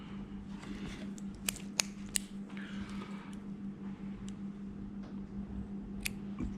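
Scissors snip cotton wick down to the O-rings on an Ardent RDA rebuildable atomizer, a few sharp, close clicks standing out over a steady low hum.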